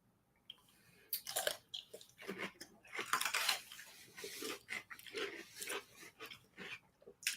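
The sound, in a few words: chewing crunchy garlic dill pickles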